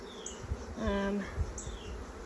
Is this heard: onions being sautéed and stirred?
no